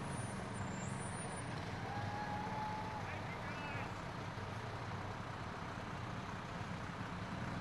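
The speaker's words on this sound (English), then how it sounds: "And then they have their tank truck following the ladder truck." A fire company tank truck rolls past in a parade behind the ladder truck, its steady engine rumble blending with broad crowd noise and scattered voices over several seconds, with a brief faint tone midway.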